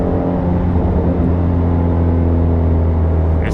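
A Ford Shelby GT350 cruises a backroad with a loud, steady engine drone and a deep rumbling hum, holding an even note throughout without sharp revving.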